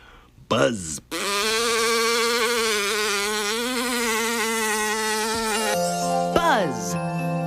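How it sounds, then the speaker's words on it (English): A cartoon-style buzzing sound effect in a children's TV episode, a loud sustained insect-like drone lasting several seconds and wobbling in pitch, framed by short vocal bursts with sliding pitch at the start and end. "Buzz."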